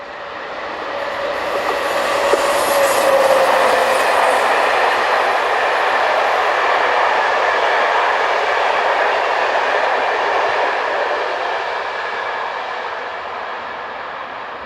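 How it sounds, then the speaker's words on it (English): BB7200 electric locomotive hauling a westbound Annecy to Lyon passenger service, a loud, steady rumble and rush of the passing train that swells and holds for about fifteen seconds, with no talk. "we see locomotive number BB7200 heading west with the 1853 service from Annecy to Lyon"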